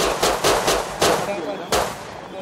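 Gunfire in the video game Rust: a handful of loud, sharp shots crack out at uneven intervals, each with a short ringing tail over a steady background.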